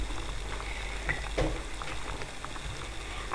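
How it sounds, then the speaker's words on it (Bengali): Egg korma curry in coconut milk boils in a pan, with soft, continuous bubbling and popping pattering along quietly up close. "বলক চলে এসেছে"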